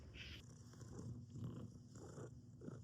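A house cat purrs close by with a soft, continuous rhythmic rumble, faint overall, in a quiet room.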